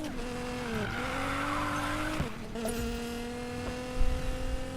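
A Nissan GT-R R35 in the video game Need for Speed Payback drives hard, its engine droning and shifting through gears, with tire squeal and a brief skid or impact near the end.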